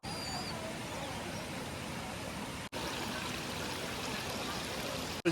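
Rain-swollen water flows steadily at the top of the Hathni Mata waterfall in Panchmahal, Gujarat, making a constant close rushing wash with one brief break partway through.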